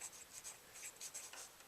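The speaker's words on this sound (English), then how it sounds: "So that's the format to write your letter. But you're going to do it just on a piece of paper like so." Pencil or pen scratching across a sheet of paper as a date is written in the corner, a quiet run of short, uneven strokes close by with no talking.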